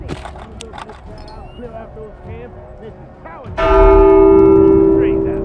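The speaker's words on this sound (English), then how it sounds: "Who the fuck rang the bell?" In the video game The Walking Dead: Saints & Sinners, a church bell strikes loudly partway through, its ringing tone sustaining and slowly fading, after a stretch of mixed voices and background game noise.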